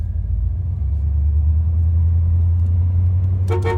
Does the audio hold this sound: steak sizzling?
no